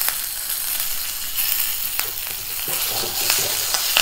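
Curry leaves crackle and sizzle in hot tempering oil for a bottle gourd milk kootu, a steady loud fry with sharp pops scattered through it.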